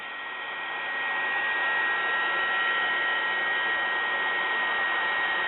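A heat tool melting embossing powder blows a continuous, close whooshing roar that swells up over the first second and then holds steady without pause.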